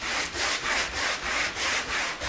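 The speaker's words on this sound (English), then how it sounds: "and all you're doing is sanding yourself a nice radius edge" A sanding block works the edge of a caulked teak panel in long, smooth strokes, giving a close, rhythmic rasp that repeats about four times a second with no talking.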